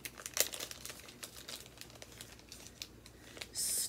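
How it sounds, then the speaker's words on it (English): Mini stork-shaped embroidery scissors pulled from a plastic bag give a soft crinkling and rustling of plastic, with a few sharper crackles near the start and a louder rustle at the end. "Let me take them out of the bag."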